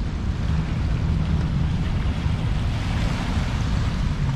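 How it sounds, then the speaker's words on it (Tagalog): Waves wash onto the shore of Dolomite Beach on Manila Bay in the morning, a continuous broadband surf hiss mixed with gusty wind noise on the microphone and no voices. "Silip muna tayo dito sa dalampasigan ng Dolomite Beach po."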